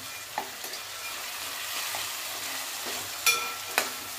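Green pea pods roasted in a pan with chopped tomato and peanuts give a steady, soft frying sizzle with a few clinks of a stirring spoon; no talking.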